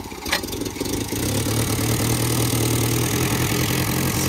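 A 1968 Renault R4 engine idling steadily and close, with a brief sharper rise at the start before it settles into an even, continuous low rumble.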